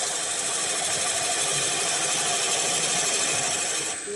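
Roughing tool cutting a spinning wooden ball bat on a wood lathe, a continuous loud, dense grinding hiss with steady motor hum, close up and unbroken until it eases off at the very end, no voices.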